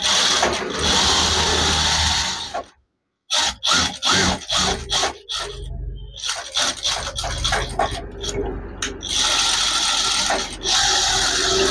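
A sewing machine stitches a silk saree blouse in loud close bursts of rapid whirring, broken by brief pauses and one sharp stop, with no one talking.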